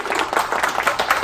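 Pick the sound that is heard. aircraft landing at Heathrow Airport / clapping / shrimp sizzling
clapping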